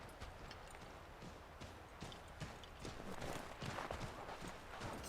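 Horse hooves clip-clop in steady rhythm as a rider moves on horseback through cold surroundings in Assassin's Creed III Remastered, mid-level and close, with faint game ambience behind.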